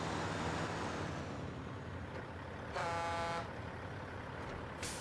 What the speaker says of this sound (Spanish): Mantiene la misma bocina.